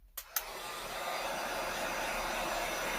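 A hair dryer switches on with a couple of clicks, then blows a steady, loud whooshing hum close by while drying furniture paint paste, with no one speaking.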